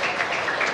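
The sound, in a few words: children applauding in class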